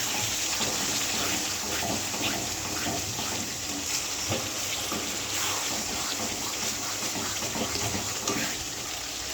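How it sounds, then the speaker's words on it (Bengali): Spice water is poured into a pan of sizzling masala, producing a steady, loud hiss and bubbling sizzle that continues evenly throughout, with no talk. "এবার আমি একটু সামান্য একটু মশলার জল দেবো।"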